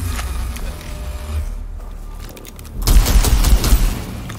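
An enemy turret in Warhammer 40,000: Mechanicus opens fire with a loud burst of heavy booming shots after a quieter stretch of clanks and hum, the volley rattling on for over a second.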